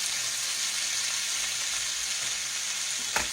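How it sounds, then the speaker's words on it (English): Potatoes frying in a home kitchen pan give a steady, close broadband sizzle throughout, with soft scraping of stirring underneath and one sharp utensil clink near the end; no one speaks. "Stir our potatoes around just a little bit."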